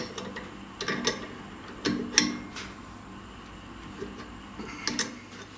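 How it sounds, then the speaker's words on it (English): Spanners click and clink against the collet while the V-bit on a SainSMART 6050 Plus CNC router is changed, a handful of sparse, light metallic ticks and scrapes close by in a quiet workshop. "we're going to change it by the use of these spanners, which are also provided with the machine"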